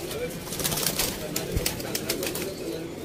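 Soft pigeon coos murmur through a busy background with faint chirps and rustling, low and continuous, at a pigeon keeper's loft in Sialkot, Pakistan.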